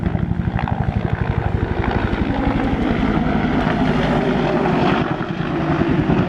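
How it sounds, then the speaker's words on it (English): An AH-1 Whiskey Cobra attack helicopter thunders close by, its rotor blades beating in a rapid, loud, steady rhythm over a dense engine roar, with no voices. "The AH-1 Whiskey Cobra is our close-in fire support weapon system."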